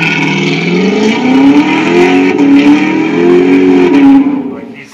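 A C7 Corvette with an automatic transmission launches hard under launch control. The loud engine note rises through quick successive upshifts, each shift dropping the pitch briefly before it climbs again, and then it fades away at the end.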